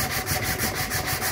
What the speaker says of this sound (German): Ich nehme ein Stück Schleifpapier, das eigentlich für einen Tellerschleifer ist,